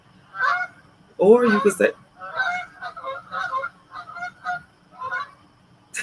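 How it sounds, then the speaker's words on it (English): Goose-like honking from waterfowl by the water outdoors, several loud bursts and repeated calls, one close harsh honk standing out, with a brief spoken phrase in between. "you might hear some ducks and some whatever else that was"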